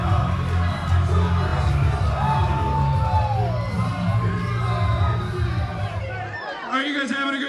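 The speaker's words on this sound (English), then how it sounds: "Listen to this crowd!" A large wrestling event crowd cheers, whoops and roars loudly and continuously, a dense wall of shouting voices with a few sharp yells standing out throughout.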